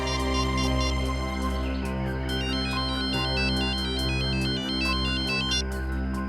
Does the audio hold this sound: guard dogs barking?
no